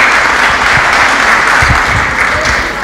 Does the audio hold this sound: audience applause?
yes